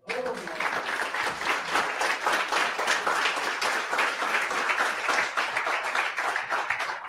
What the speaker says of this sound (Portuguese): Aplauda a Jesus, vai.